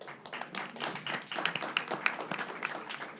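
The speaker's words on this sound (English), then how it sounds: "Can you give a round of applause?" An audience at an event breaks into applause, a dense stretch of many hands clapping at moderate distance, steady and continuous throughout.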